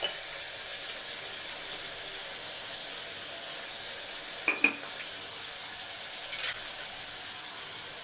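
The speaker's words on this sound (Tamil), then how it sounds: "பூண்டும் சின்ன வெங்காயமும் நல்லா பொறிஞ்சு வரட்டும்" Garlic and small shallots frying in hot oil in a pan, a steady soft sizzle running throughout with a couple of brief stirring scrapes partway through and no talking.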